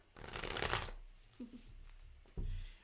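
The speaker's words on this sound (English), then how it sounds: "Let's pull some cards for the Mystic Dreamer, okay, and take a look" Tarot cards shuffled up close, one long riffling burst followed by a couple of short soft taps and flicks, quiet and without talking.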